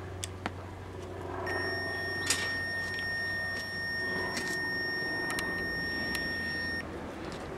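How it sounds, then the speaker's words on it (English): A steady high-pitched electronic beep from an ESR meter testing a capacitor holds for several seconds alongside a few sharp clicks and taps, in a quiet room. "It beeps at a half an ohm"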